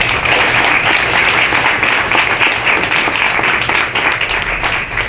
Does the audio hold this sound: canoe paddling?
no